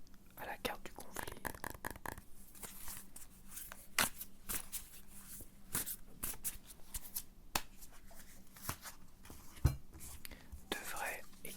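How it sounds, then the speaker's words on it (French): Tarot cards are shuffled, drawn and laid down in a quiet room, producing soft riffling, flicks and papery taps close up, with a whispered voice underneath much of the time. "Je vais tirer une carte de tarot sur ces deux cartes-là."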